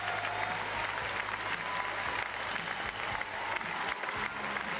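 A crowd at a wheelchair tennis match applauds steadily, a dense, sustained clapping that fills the whole stretch at an even, loud level with a low hum underneath.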